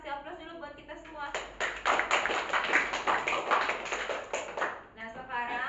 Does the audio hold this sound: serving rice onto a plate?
no